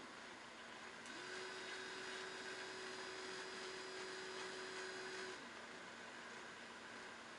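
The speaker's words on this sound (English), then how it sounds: "So you can see in here how fast the motor's going." A small DC brush motor runs fast with a steady, high whine. The pitch climbs slightly and holds for a few seconds, then drops back. The sound is continuous and close, with no talk over it.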